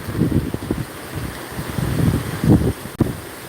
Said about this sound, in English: It is definitely getting windy though.